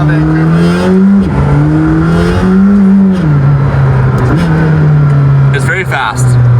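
A McLaren hypercar, P1 or Senna, drives through downtown Vancouver, its engine revving up and down through several rising, shifting surges, loud and close inside the cabin, with someone talking over it.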